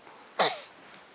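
One short, sharp sneeze bursts out in a quiet home, loud and close, with silence before and after.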